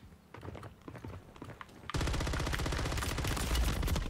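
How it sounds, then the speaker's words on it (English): Gunfire in the Call of Duty Warzone video game: sparse shots at first, then a loud, sustained burst of rapid automatic fire that keeps going to the end. "I just shot all around him."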